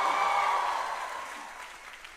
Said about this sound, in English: Applause for Rahman, yeah.